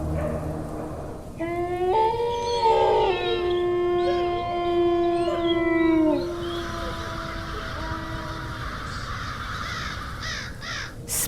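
A long, sustained wolf howl in a forest, rising and holding a clear wavering tone for several seconds before fading, with other calls and outdoor ambience behind it.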